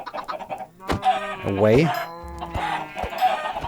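Video game chickens cluck in short bursts while someone talks over them throughout.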